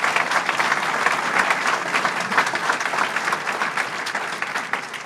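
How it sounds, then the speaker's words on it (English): Crowd at a Buffalo announcement applauds the governor, a sustained, even roar of many hands clapping with crisp individual claps poking through. "Let's give our governor a round of applause."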